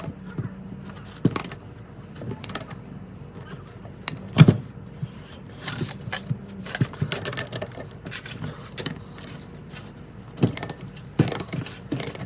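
A ratchet on a Yamaha TTR90 engine gives short bursts of clicking and metallic taps, separated by quiet pauses, close and moderately loud.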